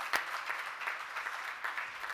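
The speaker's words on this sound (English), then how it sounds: "Let's have a big round of applause." Applause at an awards ceremony, a soft, somewhat distant patter of clapping from the audience with a few sharper individual claps, no talk over it.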